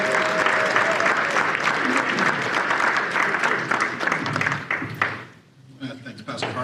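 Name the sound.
audience applause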